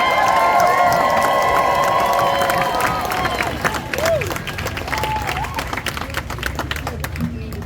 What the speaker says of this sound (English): So I'd like a big round of applause for BPAC, our partners.